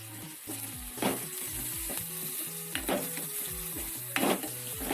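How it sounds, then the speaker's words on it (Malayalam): Onions frying in oil with curry leaves for a curd curry, stirred with a utensil: a steady sizzle runs throughout, broken by repeated scraping strokes against the pan. "ഉള്ളി എല്ലാം എണ്ണയിൽ കിടന്ന് ഒന്ന് വഴന്ന് വരുന്നവരെ നമുക്കൊന്ന് ഇളക്കി കൊടുക്കാം"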